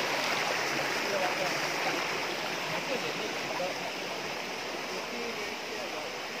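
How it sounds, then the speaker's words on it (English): A jungle river in Santubong National Park flowing after a rope-assisted crossing, a continuous close rushing and gurgling of water with a person talking over it. "So this is the river."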